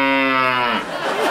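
A buffalo lets out a single loud, drawn-out moo as a comedy sound effect, close and alone, its low bellow sliding downward before breaking into a rough, breathy tail.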